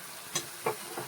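Potatoes added to hot oil in a pan with bay leaves, three quick sizzling stirs and scrapes in close succession, soft and near with no voices.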